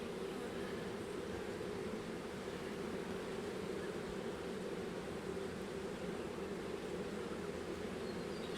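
Honey bees buzz steadily at an open hive during a varroa inspection, a dense continuous drone close by with no pauses.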